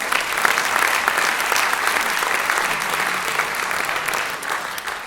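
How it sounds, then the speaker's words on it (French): Sustained audience applause fills a hall during an honorary citizen medal ceremony in Chelles, a dense, steady clapping from many hands lasting the whole stretch without pause. "On peut applaudir très fort."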